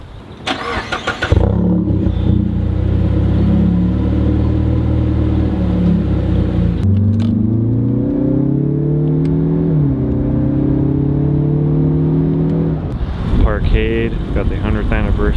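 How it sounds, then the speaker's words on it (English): A Mazda engine cold-starts at a car meet: a brief loud crank, then it catches into a steady, high, rough idle that later drops in pitch as it settles. Voices are heard near the end. "I'm gonna cold start this thing tomorrow morning,"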